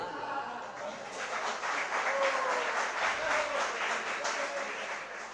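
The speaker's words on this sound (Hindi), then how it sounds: "सर्दी के समय पर तालियों की आवाज कम आती" An audience applauds at a winter religious discourse in Kundalpur by Acharya Vidyasagar Ji Maharaj, giving dense, sustained clapping at a moderate, fairly even level for several seconds.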